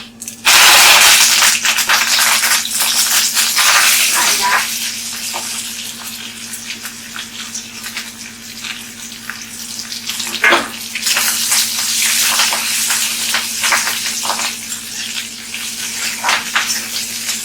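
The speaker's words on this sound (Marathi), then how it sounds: "तेल तापले तर जिरे मोहरी टाकले बघा मिरच्या कढीपत्ता" Cumin, mustard seeds, chillies and curry leaves hitting hot oil: a loud burst of sizzling at the start that settles into a continuous crackling fry, with spattering pops and a low steady hum beneath.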